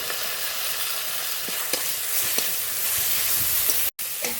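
Spiced fish curry sautés in a pan with a little water, a steady loud sizzle with occasional stirring scrapes and clicks, no talking.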